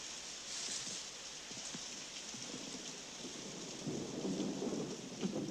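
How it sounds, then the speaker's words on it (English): Steady rain pours down during a thunderstorm, with low rumbling thunder swelling near the end, loud and close with no voices. "I hate the rain."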